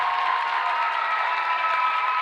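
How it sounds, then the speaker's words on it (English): Crowd applause for the Holy Cross starters at a Holy Cross vs Lincoln Broadwell championship basketball game, a steady, dense clapping from a large audience that holds without a break. "Nice big round of applause for the starters from Holy Cross."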